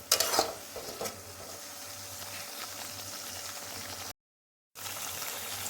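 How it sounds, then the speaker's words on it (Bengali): A spice paste with ground cashew and melon seed is sautéed in a pan for a milk paneer gravy. A few clinks of a utensil open a steady soft sizzle and scraping, then there is a brief gap of silence. "মশলাটাকে এখন একটু কষিয়ে নিতে হবে।"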